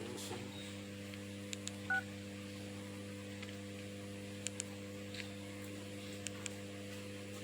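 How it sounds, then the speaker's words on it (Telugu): A short burst of phone keypad tones, then scattered single beeps of dialing over a steady electrical hum. "ఫోన్ చేస్తున్నాను"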